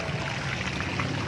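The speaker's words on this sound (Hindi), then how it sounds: "पहाड़ों के पानी से अब हम वजू करेंगे" Fresh mountain water pours steadily outdoors at a hillside spot in Kallar Kahar, a continuous close splashing rush used for ritual washing before prayer, with no talk over it.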